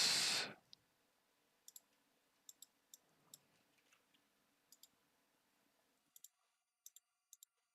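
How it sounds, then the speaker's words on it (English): Computer mouse clicks while working at a computer, sparse crisp single and double clicks spaced irregularly over near silence, following a brief louder burst at the start. "Clicking all sorts of stuff."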